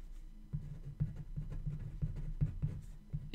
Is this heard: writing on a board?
yes